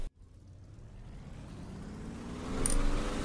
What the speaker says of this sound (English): we're going to turn the engine up and see what happens